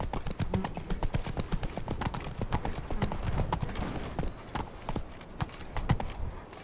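Hooves of Roach, the horse in The Witcher 3 (Blood and Wine), pound in a steady galloping clip-clop rhythm across the whole stretch, close and fairly loud against a light ambient bed.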